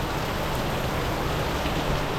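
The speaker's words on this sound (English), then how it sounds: "crazy rainstorm just rolled in" Heavy rainstorm pounding steadily on a sailboat deck, a dense, even hiss of drops at close range with no pauses and no voices.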